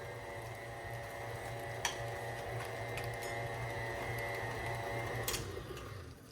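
An electric mixer blends an egg into chocolate chip cookie dough, a steady close mechanical whir with a low hum, broken by a couple of brief clicks and knocks.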